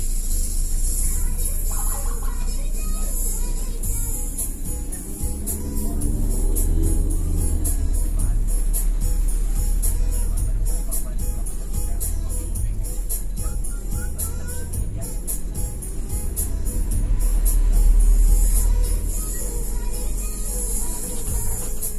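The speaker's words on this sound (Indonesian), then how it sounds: "Mobil diberangkatkan dari Palimanan." Bus rumbling away from Palimanan on a Cirebon–Merak run, a steady low engine drone with road noise that swells as it pulls off, heard from inside the cabin, with faint talk underneath.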